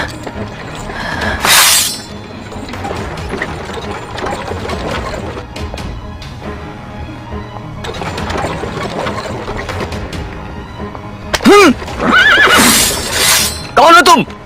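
A startled horse whinnies in a dubbed Chinese kung fu action film, two loud, shaking neighs near the end following a sharp crash and clattering, with voices talking and music through the scene.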